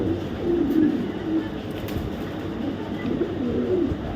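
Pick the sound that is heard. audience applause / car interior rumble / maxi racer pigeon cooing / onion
maxi racer pigeon cooing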